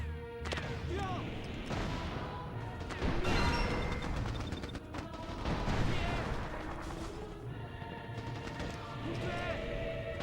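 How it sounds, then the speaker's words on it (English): Recoilless rifle firing in Mercenaries: Playground of Destruction on PS2, heavy booming blasts and crashing impacts recurring through a dense, loud mix of gunfire and battle noise, with voices talking underneath. "we're gonna go back to the recoilless rifle"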